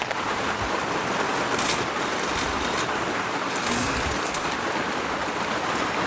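Heavy rain pours down in a hill region, a dense, steady hiss of water falling on surfaces, constant and fairly loud throughout with no voices.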